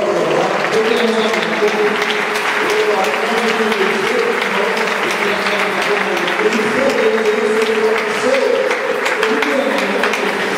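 Church congregation applauding and cheering during a French-language worship service, steady dense clapping filling the whole stretch with voices mixed in throughout.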